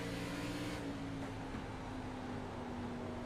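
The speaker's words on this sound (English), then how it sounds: "You hear the engine. That's what I like about the cockpit sound." In-cockpit race car engine from a racing video game at Bristol Motor Speedway: a low, steady droning hum with a faint buzzing tone, fairly quiet and unchanging throughout.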